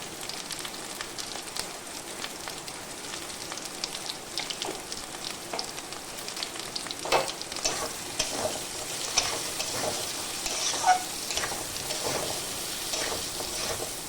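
Red amaranth curry ingredients fry with turmeric in a pan, making a continuous crackling sizzle like light rain. Sharper pops and spatula stirring rise louder toward the middle and end, close by with no talking.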